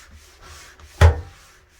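A single short scrubbing stroke on a surface being cleaned with a household cleanser such as Soft Scrub or Comet, loud and close after a quiet stretch of faint rubbing, then fading out.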